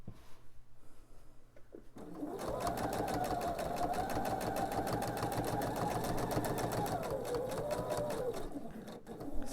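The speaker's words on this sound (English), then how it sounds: "So I'm going to stitch right up until that drawn line, and now I'm going to backstitch" A sewing machine stitches quilt binding with a fast, steady mechanical hum and needle chatter that starts abruptly after a quiet moment with talking, then runs loud and continuous to a final clunk.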